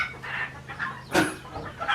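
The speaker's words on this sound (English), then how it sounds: "Little rooster's going crazy." A small rooster clucks in rapid bursts on a homestead where a pole barn is being sheeted with old tin, the calls close and fairly loud, with one sharper, louder squawk near the middle.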